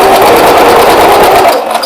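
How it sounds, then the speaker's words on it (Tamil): A sewing machine runs continuously up close, loud and fast, as it sews a stitch, then slows and stops near the end. "நான் இப்போ ரெண்டாவது ஸ்டிச் போடுறேன்."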